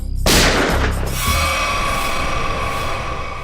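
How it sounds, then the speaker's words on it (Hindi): A single loud, sharp blast bursts in, then a broad roaring decay and lingering hiss trail off over a few seconds. "गोली चली क्या?"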